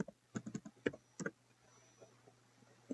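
Fingers tap on a computer keyboard in a quick cluster of soft clicks, then a few sparser, fainter keystrokes against a low, quiet hum.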